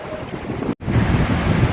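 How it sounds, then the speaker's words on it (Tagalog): Strong wind roars over a rushing, wave-like wash of heavy rain during a storm, with a brief drop-out partway through; no voices. "lamig, lakas ng ulan, lakas ng hangin"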